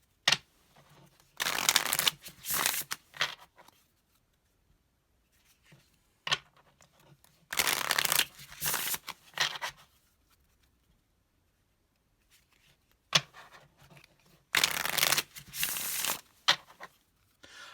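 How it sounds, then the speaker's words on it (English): Bursts of card shuffling, crisp riffling flutters in several separate rounds with quiet pauses between, close up and clear. "So I'm just going to do some actual shuffling."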